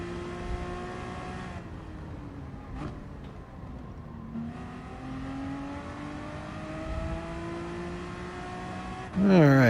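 A race car engine at Brands Hatch in Gran Turismo Sport, revving through gear changes with rising and falling whine, steady and close, ending in a loud burst, with faint speech underneath.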